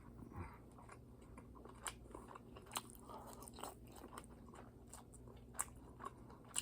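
Biting and chewing beef bulgogi, close and quiet, with soft irregular chewing and a few crisp clicks, with no talking.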